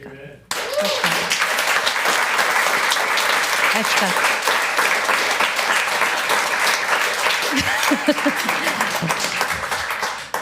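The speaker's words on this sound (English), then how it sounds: "I feel like we all need to give you a round of applause" An audience breaks into a sustained round of applause at an event about Indigenous artwork in the Fraser Valley, dense clapping filling the room steadily for about ten seconds.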